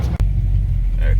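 A custom classic car rumbles steadily at low pitch while cruising, close and loud, with talk over the engine.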